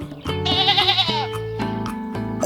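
A single sheep bleats loudly with a long, trembling cry, then falls quiet while backing music continues beneath.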